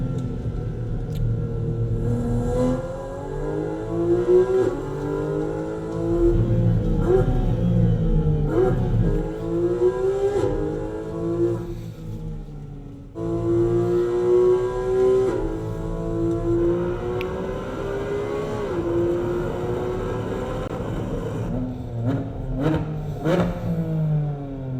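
A Porsche GT4 RS lapping a race track, its engine revving hard and rising through the gears, dipping on shifts and braking, then climbing again; a continuous loud, near mechanical roar with rumbling undertones and brief clattery moments.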